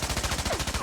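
Stock gunshot sound effect fired through a floor: a rapid, loud burst of evenly spaced shots, close and alone, under a second long.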